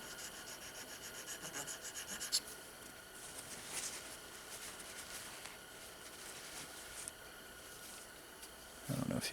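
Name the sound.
polishing AR-15 trigger parts to remove machining marks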